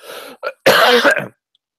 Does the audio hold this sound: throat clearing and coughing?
yes